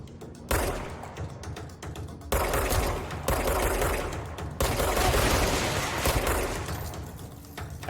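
Gunfire in the action video game Control comes as repeated heavy bursts of shots. The dense, loud volleys are broken by short pauses, with no voices over them.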